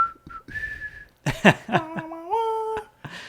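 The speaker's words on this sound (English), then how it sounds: "I was whistling" A person whistles the Superman theme tune alone and up close, a few short melodic phrases with rising pitch slides and sustained notes, briefly interrupted by a bit of voice.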